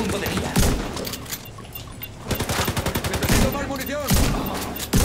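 Rapid bursts of incendiary-round gunfire in The Division 2 crackle in quick succession, sharp repeated shots with short pauses between volleys, loud and close.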